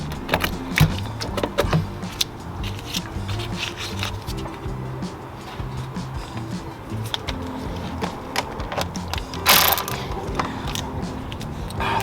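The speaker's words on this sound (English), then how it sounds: "These are 8mm sockets." Ratchet with an 8mm socket working on a Ford F150 5.0 engine during water pump removal, giving rapid, irregular clicking and metallic tool clatter in close bursts over the whole stretch, with no talking.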